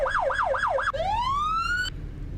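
Video-game police car sirens in Roblox wail loud and close, first in a fast warbling yelp of about four cycles, then shifting into a single long rising wail that cuts off abruptly, with a steady low hum continuing underneath.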